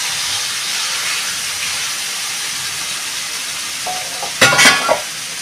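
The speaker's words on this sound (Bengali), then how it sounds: "দিয়ে দিচ্ছি মাংসটা" Mutton, 700 grams, frying in a pan for a mutton and potato curry, giving a steady broad sizzle and hiss, with a louder burst of crackling spatter near the end as the meat is stirred.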